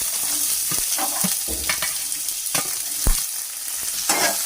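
Chopped onions hit hot oil with cumin for a samosa filling, crackling and sizzling loudly up close, with sharp stirring scrapes and clacks breaking through the steady fry.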